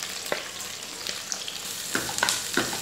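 Chopped onion frying in a pan for a potato and cauliflower aloo gobi curry, a steady close sizzle with a few scraping stirs of the spatula, no voices.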